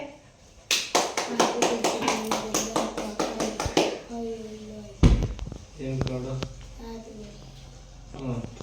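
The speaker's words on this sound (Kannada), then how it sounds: "ಪಡೀರಿ ಚಪ್ಪಾಳೆ" A handful of people at a birthday celebration clap together in a quick, close burst of sharp claps that ends abruptly, followed by a thump and some speech.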